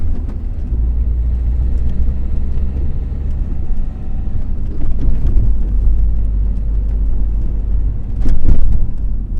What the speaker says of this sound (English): Now we're going uphill 20 miles per hour on some speed humps.